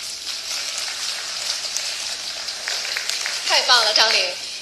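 Audience applause welcomes a Yue opera performer at a televised Yue opera showcase: a steady wash of clapping that swells near the end, where a few tonal voice or instrument sounds rise over it.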